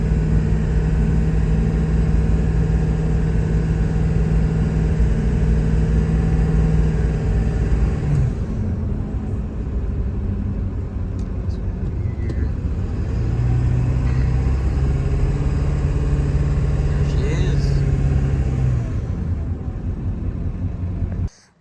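A pickup truck engine drones loudly and steadily while driving, with low rumble and shifts in engine pitch as it pulls along, and no talking.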